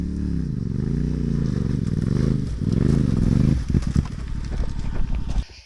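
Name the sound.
motorcycles riding past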